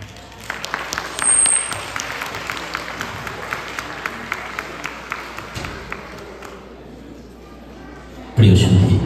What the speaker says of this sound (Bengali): তুমি হাততালি পেয়ে গেছো